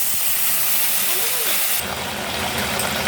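Water hits a hot pan of dried fish curry with a broad steamy hiss that shifts abruptly partway through and keeps sizzling to the end.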